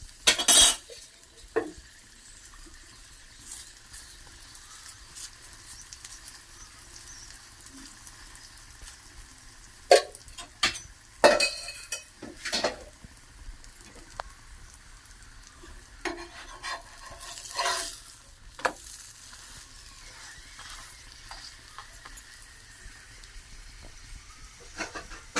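Bobbatlu (wheat-flour puran poli) cooking on a pan with ghee poured over and flipped, heard as scattered scraping and clattering of a utensil against the pan over a quiet, faint sizzle, with no talking.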